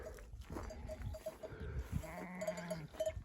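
Sheep bleat a few times at a distance amid quiet outdoor ambience, with faint bell-like tones in the background.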